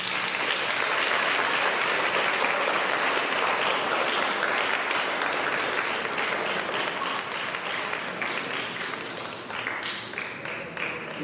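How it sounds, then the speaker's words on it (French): Sustained applause from a church congregation at a first communion Mass honoring the children, a dense, steady wash of clapping that holds for about eleven seconds and tapers slightly toward the end. "Un applaudissement pour eux."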